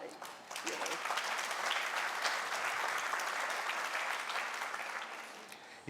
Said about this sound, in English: they keep applauding everything you're saying